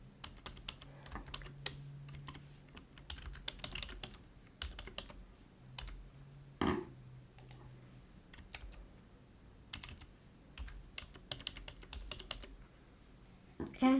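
A username and password typed on a computer keyboard to log into software: steady, close clicking keystrokes throughout, with short pauses and a few louder taps.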